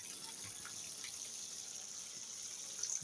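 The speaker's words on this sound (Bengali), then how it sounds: "এবার আমি এর মধ্যে চিকেন স্টুটাকে ঢেলে দেবো।" Chicken stew poured into a pan for chicken bharta, a soft steady liquid pour heard faintly and continuously throughout, with no speech.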